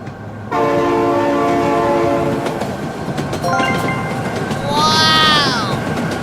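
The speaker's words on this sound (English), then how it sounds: "Oh my god, train!" Train in the BeamNG.drive driving game sounding a loud sustained multi-tone horn as it approaches, followed by a bending pitch-shifting horn blast as it passes close by, with rumbling running noise throughout.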